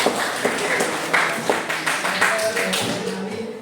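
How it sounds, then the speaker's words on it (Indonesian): A classroom group clapping hands together, a run of moderately loud, slightly uneven claps with a voice speaking over them. "Oke, tepuk tangan untuk semuanya."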